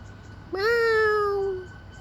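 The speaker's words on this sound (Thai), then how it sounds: "นี่ครับแมวสามสี สีดำสีเหลือง" Calico cat giving a single clear, drawn-out meow of about a second, close and distinct over a faint low background hum.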